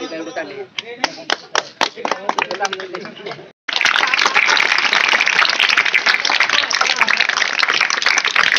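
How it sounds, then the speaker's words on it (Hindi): Scattered hand claps with talk build into loud, sustained applause from a crowd after a brief pause, at a school festival opening ceremony in Odisha, India. "ताली ताली"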